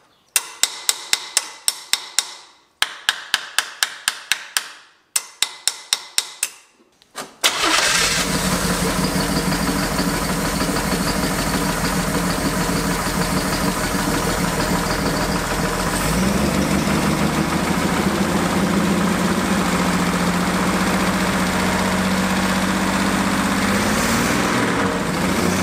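An old, burnt and abandoned Chevy Nova with a GM one-barrel carburetor cranks with a series of sharp, rhythmic clicks and knocks, then catches and settles into a loud, steady, close idle that runs to the end.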